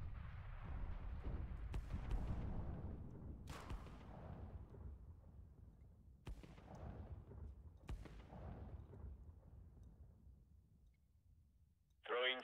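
Grenade explosions in CS:GO, several heavy booming blasts spaced a few seconds apart, each decaying into a low rumble, with a brief burst of voice at the very end.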